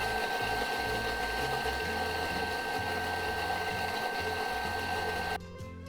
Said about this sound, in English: Now we're gonna mix it for 30 seconds on speed 6.